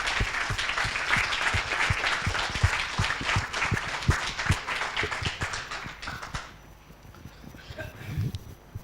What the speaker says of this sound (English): Please stand up, and you deserve an applause.